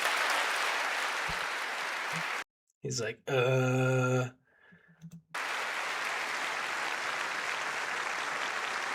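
Sustained applause from a large crowd, loud and dense, broken for a few seconds by a gap in which someone speaks briefly, then the clapping returns just as full.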